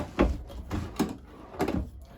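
Storage drawers in a 2020 Tracer 26 DBS travel trailer opened and shut, several close, sharp knocking slides and thumps in quick succession, each a short wooden clunk in a quiet interior.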